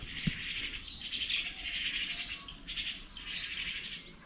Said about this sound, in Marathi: चिमण्यांचा आवाज येतो तुम्हाला